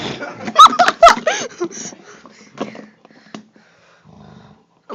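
A dog growls and grunts up close in short, uneven bursts that are loudest early and fade to quieter rumbles toward the end.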